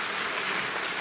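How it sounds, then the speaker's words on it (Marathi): Audience applause at a public awareness meeting on welcoming the birth of girls in Sinnar taluka, a steady, dense clapping crowd heard throughout at even loudness. "जोरदार टाळ्या वाजवायच्यासाठी."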